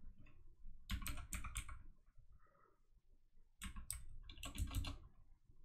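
Computer keyboard typing into a search bar, two quick bursts of close, crisp keystrokes separated by a brief pause.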